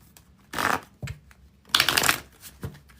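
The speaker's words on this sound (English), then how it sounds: "shuffle this deck real quickly here" A deck of tarot-style cards is shuffled by hand nearby, with two longer riffling bursts and a few softer taps and slaps of cards between them.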